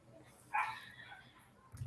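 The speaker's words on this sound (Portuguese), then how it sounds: "Foi só a gente abrir o microfone, que eles começaram a latir muito" Dogs bark outside during an online talk on urban art. One short yelp sounds at a moderate distance, with a quieter stir near the end.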